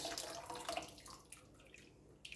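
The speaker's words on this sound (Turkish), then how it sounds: "Bir bir buçuk litre su koyacağım." Water is poured into a soup pot for an Antakya-style rice soup, a steady close splashing stream that tapers off after about a second, followed by small drips and clinks with no talking.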